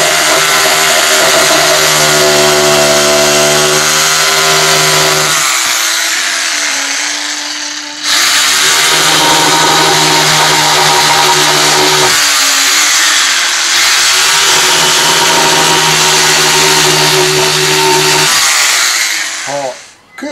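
A power saw cuts wood while a kopjafa, a carved wooden post, is being shaped. The motor gives a loud, sustained whine that shifts in pitch, with short pauses between cuts.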